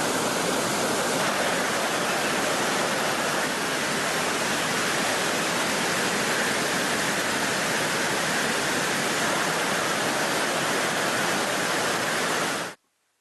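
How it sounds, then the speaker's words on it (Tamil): Water pours over Thiruparappu waterfall, swollen past the danger level after heavy rain, as a loud, unbroken roar that holds steady for about twelve seconds and then stops abruptly. "திருப்பரப்பு அருவியில் அபாய கட்டத்தை தாண்டி தண்ணீர் விழுவதால்"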